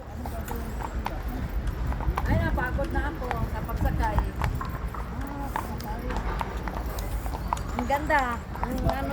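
Horse hooves clip-clopping on a ride in Baguio City, a steady close rhythm of hoof strikes under frequent talking, with a horse whinnying briefly near the end.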